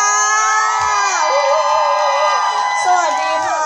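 A dense crowd of fans at a singer's stage appearance during a Terminal 21 mall midyear sale event screams and cheers, keeping up loud, continuous, high-pitched shrieks and whoops throughout.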